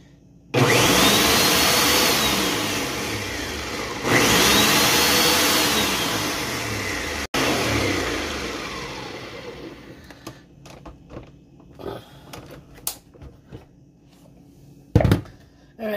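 Blender chopping sea moss for gel: loud motor whir in three bursts with slight pitch sweeps, cutting off around ten seconds, followed by sparse clicks and knocks of handling the jar.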